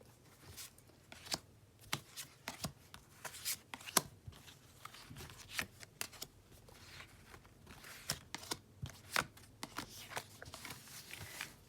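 Cards being handled, slid and inserted into a spread during a tarot reading, with faint, soft rustles and light taps sounding close and quiet, spaced irregularly throughout.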